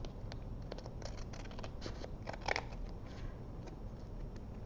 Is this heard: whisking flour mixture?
no